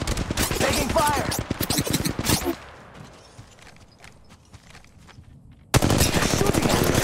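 Rapid automatic gunfire in the mobile shooter Apex Legends Mobile, loud dense bursts of shots, a pause with quieter background, then another sharp burst of firing.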